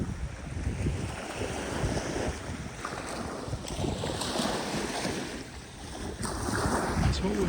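Surf rolls onto a beach on the Holderness coast under a strong tidal pull, a continuous wash of waves mixed with heavy wind buffeting, swelling and easing, with no voices.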